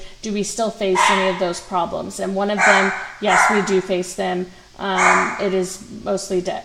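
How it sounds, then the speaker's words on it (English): A pet dog barks repeatedly in the background, in short bursts of sharp yips and barks that keep interrupting while a person lectures over them. "my dog is barking because she's annoying"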